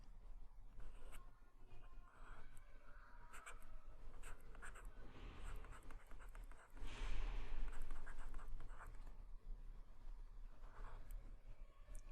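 Chalk or marker scratching out physics equations on a board, a steady run of short strokes and taps at close range with no talk, busier in the middle.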